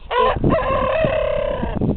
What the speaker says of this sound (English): Here we have a Rhode Island Red.